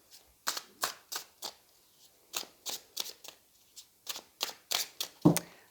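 Grand Luxe tarot cards shuffled by hand: a sequence of about a dozen crisp, close riffling bursts separated by short pauses, with no talking.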